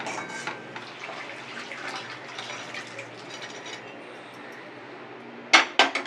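Boiled chickpeas tipped into masala in a pan and stirred, soft wet scraping and clinks under a low sizzle, ending in a few sharp louder metal knocks.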